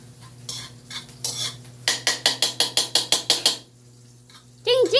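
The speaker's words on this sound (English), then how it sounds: "Saute that a" Food sautés in a pan for chili cheese dogs, with a rapid run of about a dozen rhythmic metal-on-pan clanks from a spatula, then a quieter stretch and a brief final clatter over a low background hum.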